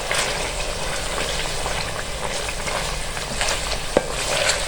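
Garlic ginger paste for chicken karahi fries on a high flame, with a steady, close, crackling sizzle throughout and a few sharper pops near the end.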